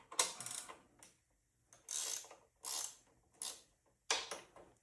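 A wrench ratchets a bolt loose during a shaft switch-out, five separate bursts of fast ratcheting clicks, each about half a second long with short pauses between, close and fairly quiet.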